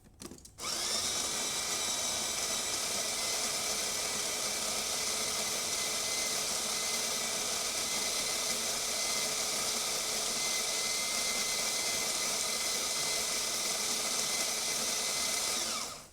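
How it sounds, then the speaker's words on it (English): A DeLonghi La Specialista Arte espresso machine's built-in grinder grinds coffee beans in one steady, loud, continuous whir lasting about fifteen seconds before cutting off, with no talking over it. "As you can see, grinding way longer, so that just indicates that little adjustment knob here is indeed working."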